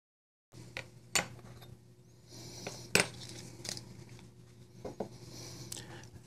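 Small steel washers come off the pivot of a Bridgeport Knife Co. 1827 folding knife, giving a few faint, sharp metallic clicks and light scrapes spread across a quiet background.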